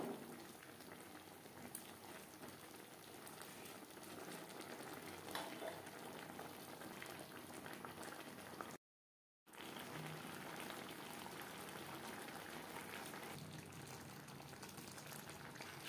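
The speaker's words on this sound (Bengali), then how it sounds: "চার 5 মিনিট বেশ ভালো করে ফুটিয়ে নেব।" Cauliflower stems boiling in a pot, a continuous bubbling simmer with fine popping, steady and faint, heard alone apart from a brief cut near the middle.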